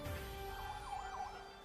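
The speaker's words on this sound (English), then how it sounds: "This ambulance is actually arriving with a critically injured person." An ambulance carrying a critically injured person pulls up outside a hospital in Ramallah, its wailing siren rising and falling a few times, faint and distant beneath a steady low rumble.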